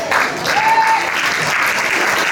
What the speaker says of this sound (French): on applaudit tout ça, bien sûr